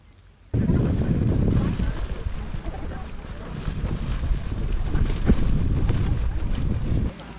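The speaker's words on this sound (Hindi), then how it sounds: "और यहाँ पे हो रही है बारिश बहुत तेज।" Heavy rain and strong wind in Iceland roar steadily across the microphone for several seconds as a dense, close, unbroken wash of noise, starting abruptly and dropping off at the end.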